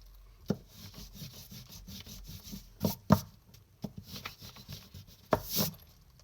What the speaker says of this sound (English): So I'm just going to take a minute and erase some of the marks.